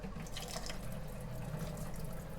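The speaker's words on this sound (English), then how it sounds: "then we're going to turn on our hot water" Hot water running from a tap into a slop sink during an electric water heater installation, a steady close splashing flow with a constant low rumble, no voices.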